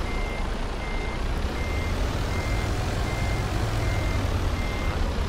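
A truck's reversing alarm in American Truck Simulator beeps steadily at an even rhythm over a loud, continuous diesel engine rumble, with no talk.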